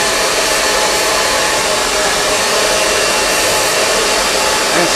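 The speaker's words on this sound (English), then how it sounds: "I'll spray first and then push it with the hair dryer." A hair dryer blows steadily and loudly up close, a constant whooshing roar that doesn't change for the whole stretch.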